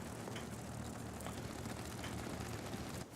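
Steady, dense propeller-engine drone of a World of Warplanes aircraft in flight, loud and continuous throughout with a slight dip at the very end, no talk.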